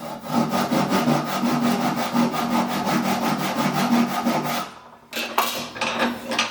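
A hand saw rasps steadily through wood in quick, even back-and-forth strokes, close and loud, pausing briefly before a few more strokes.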